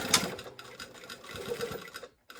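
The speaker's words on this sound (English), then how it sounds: "we're gonna sew the waistband down" A sewing machine stitches down a jeans waistband at a 2.5 stitch length, running steadily and close for about two seconds before stopping briefly.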